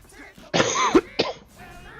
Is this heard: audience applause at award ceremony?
no